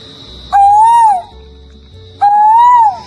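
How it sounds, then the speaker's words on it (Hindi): An Asian koel gives two loud, clear whistled calls, each rising and then falling, with a short quiet gap between them. "और ऐसे कोयल बोले तो एशियन कोयल है।"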